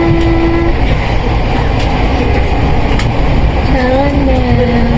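A passenger train rumbles loudly and steadily past at close range, with faint tonal squeals or horn-like notes rising near the end; voices murmur faintly beneath the noise.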